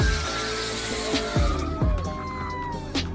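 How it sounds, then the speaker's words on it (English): Mustang doing a burnout in front of a police car on a street, engine revving with drawn-out tire squeals rising and falling, close and loud, with sharp bursts over about three seconds. "Mustang performs burnout in front of a police car."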